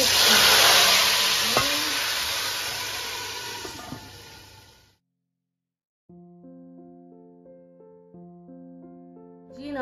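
Loud, close sizzling of a tadka of garlic and spices frying in hot oil for several seconds, then it stops abruptly; after a brief silence, soft music begins.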